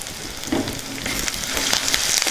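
Green chillies, dried red chillies, garlic pieces and curry leaves frying in hot oil for a sorrel and Bengal gram curry, giving a steady close sizzle with a brief louder crackle as the leaves go in.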